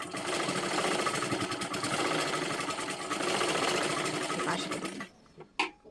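A sewing machine stitches a blouse in one long, steady run of buzzing at close range, then stops, leaving a few faint handling clicks.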